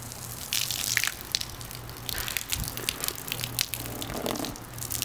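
Water pours and splashes onto a New Era 59FIFTY Seattle Seahawks on-field cap for about five seconds, a steady faint gush with scattered drips and spatters, with a low hum underneath.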